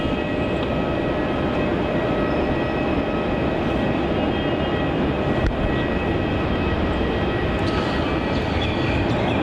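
A Virgin Australia Boeing 737 arriving at Melbourne Airport makes a loud, continuous broadband roar that holds steady throughout.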